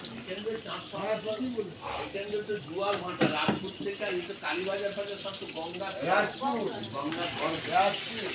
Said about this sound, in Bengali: এখানে মাছ ভাজা, মাছটা ভাজা হচ্ছে